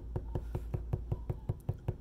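Drumsticks tap a steady stream of evenly spaced strokes with hands alternating, about ten crisp, quiet, close hits in two seconds at an unbroken even pulse.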